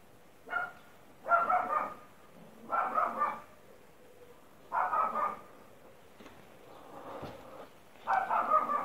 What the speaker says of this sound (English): can you hear the dog barking next door?